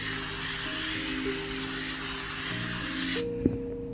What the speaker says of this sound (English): So first I'm going to spray a little bit of oil.